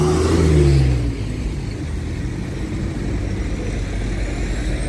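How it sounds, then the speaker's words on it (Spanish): Cars in street traffic in Görükle, Bursa: one vehicle rumbles past close by with a falling engine note in the first second, then a steady wash of traffic noise continues at moderate level with no talking. "me da mucho miedo los coches aquí"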